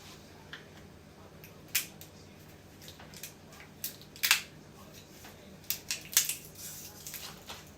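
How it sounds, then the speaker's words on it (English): Several sharp, quick snips scattered unevenly through a quiet room, with small handling clicks and rustles between them. "So I need my scissors."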